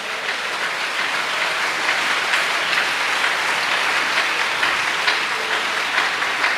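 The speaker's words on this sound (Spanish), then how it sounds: "Dele ese aplauso al Señor Jesús." Congregation applauding during a church service, a loud continuous wash of clapping from many hands, steady throughout with no voices standing out.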